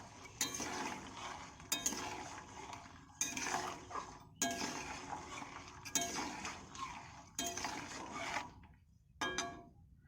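A spoon scrapes and knocks around a pot while jaggery is stirred in water to melt, a quiet series of repeated clinking strokes in a steady rhythm, alone without talk.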